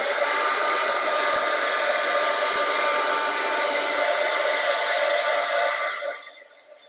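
A heat tool or hair dryer blows steadily and loudly to dry freshly stamped paper pieces, a constant broadband whoosh for about six seconds before cutting off and fading out.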